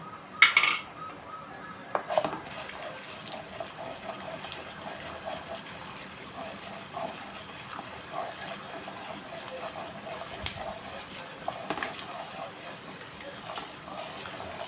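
A pan is set on a lit stove to make red wheat rava upma, with a sharp metallic clank of cookware up front, then soft scattered clinks and a low background hum throughout, with someone speaking over it.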